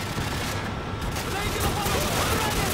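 Rapid gunfire in Call of Duty 4, a dense continuous volley of shots filling the whole moment, loud and close with a rough, crackling texture.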